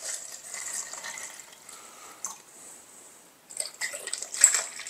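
Dissolved citric acid solution is poured into an Air Still Pro, a faint trickling, splashing flow that thins midway and then picks up again more briskly.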